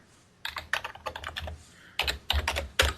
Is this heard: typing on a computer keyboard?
yes